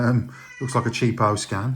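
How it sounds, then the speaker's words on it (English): A house cat meows and complains repeatedly in the background, its cries rising and falling while someone talks over them nearby. "You can hear my cat in the background complaining."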